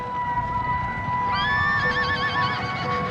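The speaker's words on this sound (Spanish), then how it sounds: "Sus caballos se levantaban, se erguían." Horses neigh in a Mameluke cavalry charge, a loud wavering whinny rising over a rumbling background of hooves and commotion, close and prominent.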